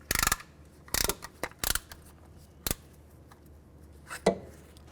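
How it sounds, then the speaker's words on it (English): Sharp metallic clicks and clacks ring out as a caliper piston compressor tool is released on the front brakes of a 2003-2007 Cadillac CTS, a few irregular bursts separated by quiet pauses. "All right, now we're going to release the tool."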